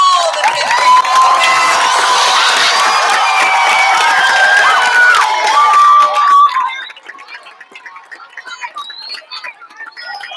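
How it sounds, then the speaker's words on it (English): Audience at a 5th grade school promotion ceremony erupts in loud cheering, whoops and children's shouts with applause, then drops to scattered quieter claps and voices near the end. "A round of applause for all."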